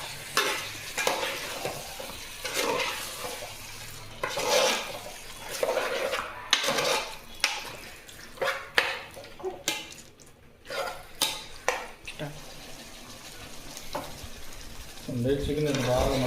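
Chicken biryani masala is stirred in a pot with repeated scraping and clanking strokes of a spoon over a soft sizzle, in uneven bursts, and a voice speaks briefly near the end.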